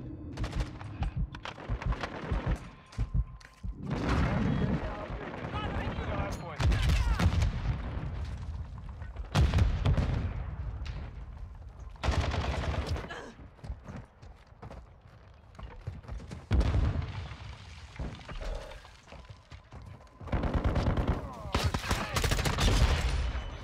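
Repeated bursts of shotgun fire in the video game Modern Warfare 2, loud and close, coming in clustered volleys with brief gaps between them.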